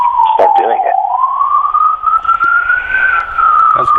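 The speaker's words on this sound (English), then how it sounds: "That's allowing for the siren." A siren passes through a New York City street, one long slowly rising and falling wail that stays loud and near throughout, with a voice briefly heard early on.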